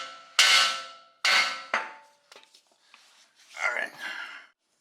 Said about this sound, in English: I'm gonna go ahead and get a hammer, hit it right here on the knuckle